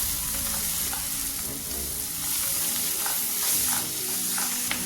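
Chicken masala and chilli powder are stirred through a frying chicken curry base in a pan. A dense, close sizzle runs under rhythmic scraping strokes of the spoon, with steady loudness and no voices.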